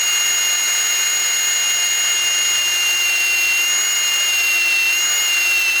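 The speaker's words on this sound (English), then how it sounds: "See the pitch change in the drill?" A power drill bores into a stuck exhaust bolt on an Evinrude outboard motor, whining loud and steady without a break and holding a high pitch under heavy pressure.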